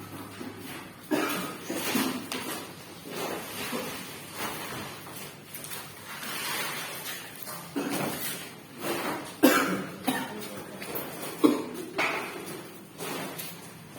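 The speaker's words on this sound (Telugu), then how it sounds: "దగ్గుతున్నావు." A person coughs repeatedly indoors, a series of short harsh bursts spread across the stretch at moderate distance, with faint room noise between them.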